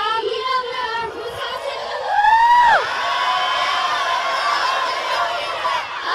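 A crowd at a Fourth of July show in Atlanta cheers and whoops, a high rising whoop standing out among the yells, the roar continuing steadily beneath a voice speaking nearby.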